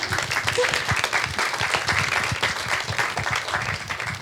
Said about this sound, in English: Can we get a round of applause for Aditi?